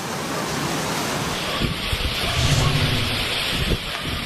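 Rushing floodwater from continuous typhoon rain surges through the streets of Legazpi City, Albay, a steady, loud broadband roar with churning swells and no speech.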